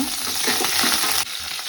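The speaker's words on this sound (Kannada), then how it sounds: "ಈರುಳ್ಳಿ ಹಾಕ್ಕೊಂಡು ಒಂದು ಸ್ವಲ್ಪ ಫ್ರೈ ಆಗಬೇಕು" Food sizzles loudly in hot oil with a steady hiss, close up, as onions fry and are stirred around the pan for an amaranth greens dish.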